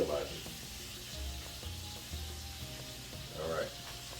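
Shrimp seasoning and sizzling in a hot pan for a shrimp pasta with peas and pancetta, a steady close frying hiss with brief stirring clatter and faint voice in the background.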